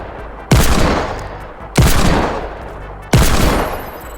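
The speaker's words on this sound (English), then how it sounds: "So I can still shoot it and it'll activate." Three loud, separate gunshots spaced about a second and a half apart, each with a long decaying tail, fired at an invisible trigger device in Fortnite Creative, with no talking.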